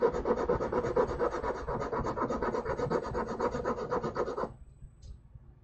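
Rapid, rhythmic back-and-forth scraping of abrasive on wood while shaping by hand, close and steady, stopping abruptly near the end.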